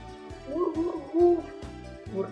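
Soft, low hooting coos repeat in an uneven rhythm at moderate distance, with no talking.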